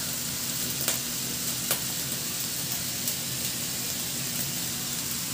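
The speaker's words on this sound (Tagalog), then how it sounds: "ilagay ko na rin yung bawang at igisa" Garlic sizzles in rendered ground pork fat in a pan, giving a dense, steady frying hiss with a few faint stirring taps, close and even throughout, with no voices.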